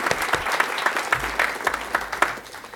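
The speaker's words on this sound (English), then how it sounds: "big round of applause for everybody." Audience applause after a poetry reading event, a brisk burst of many hands clapping at moderate volume for a few seconds, with scattered sharper claps standing out.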